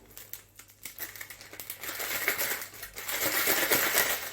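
Plastic bag of frozen strawberries handled in a home kitchen, giving a steady run of crinkling and rattling that swells louder through the second half, close and with no talk.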